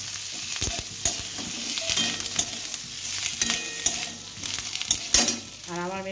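Boiled potatoes with curry leaves are stirred in a pan, giving a steady close sizzle broken by repeated scraping and clacking strokes of a spatula, with no one talking.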